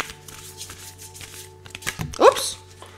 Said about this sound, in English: I'm going to shuffle this oracle,